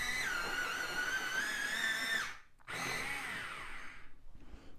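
A dark sepia pencil turns in an electric sharpener with a close, steady whine. The sound breaks off briefly, then a second, rougher burst of grinding follows.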